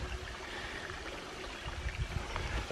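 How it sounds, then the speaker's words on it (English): Steady rushing, gurgling water from a small nearby falls in a Tennessee nature preserve, continuous and moderately quiet with no voices. "Another little trickle of a falls."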